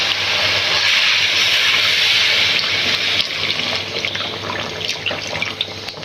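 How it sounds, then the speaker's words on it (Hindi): A glass of water is poured into a pot of potato curry after the potatoes are fried in spices, giving a continuous close splashing hiss for a few seconds that then breaks into softer, uneven sizzling and bubbling, with no talk. "अब हम इसके अंदर 1 गिलास पानी का शामिल कर देंगे।"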